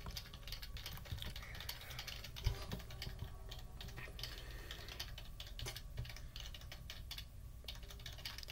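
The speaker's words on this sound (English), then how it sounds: "He's just slamming his hands on the keyboard." Hands slam on a computer keyboard during a ROBLOX game, a busy clatter of rapid, uneven key strikes close and fairly quiet, with one louder thump along the way.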